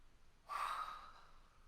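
A single drawn-out yawn during a voice warm-up stretch, starting suddenly with a breathy rush and tapering slowly over about a second, close and fairly quiet with no talking.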